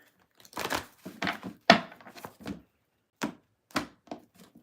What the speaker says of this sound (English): There's a lot of cards to shuffle. I'm shuffling as quickly as I can.